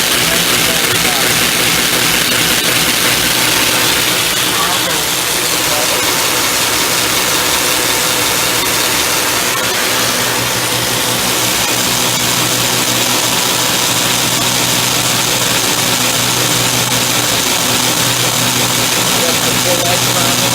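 An NS DM1100C deburring machine runs with its conveyor belt, giving a loud, constant, dense mechanical whir and hum with steady vibration throughout, sounding alone without talk.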